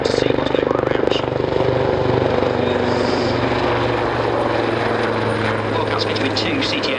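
Royal Navy Black Cats helicopter, fitted with two CTS800 engines, flying at the Waddington 2014 air display, a loud steady rotor and turbine roar with rhythmic blade chop, under a commentator speaking.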